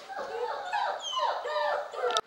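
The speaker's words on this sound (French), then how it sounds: "aboie parce que le facteur est en train de déposer le courrier" Month-old puppies whimper and yip while an adult dog barks at a mail carrier dropping off post, a busy mix of high whines and calls ending in a sharp knock-like click.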